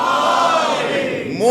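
A congregation at a religious majlis shouts a slogan response in unison, a loud sustained crowd roar that swells and then rises again at the end.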